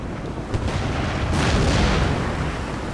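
Ship cannons firing in Empire: Total War, a rolling series of deep booms and blasts, heavy low rumble swelling in the middle and lingering, with no talk over it.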